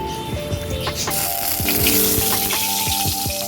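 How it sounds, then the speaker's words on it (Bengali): Salted eggplant frying in hot oil gives a steady, close sizzle with crackling pops and faint clinks of a utensil throughout, with no talk. "বেগুনটাতে নুন মাখিয়ে রেখেছিলাম বেগুনটা এবারে ভেজে নেব"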